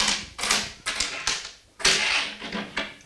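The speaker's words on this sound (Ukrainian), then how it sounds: "Возьмем несколько монет." Coins from a collection handled and shuffled together, loud bursts of metallic clinking and rattling repeating in uneven waves close by, with no voices.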